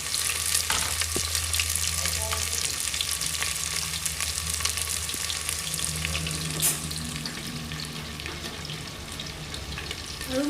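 Onions frying in a pan with oil while making chicken egg biryani, a steady dense sizzle close by with occasional stirring scrapes and no talking.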